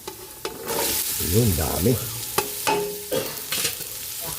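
Garlic and onions sizzle in an oiled frying pan while they are stirred for pork dinuguan. A steady close hiss is broken by sharp scraping strokes, and a voice speaks briefly over it.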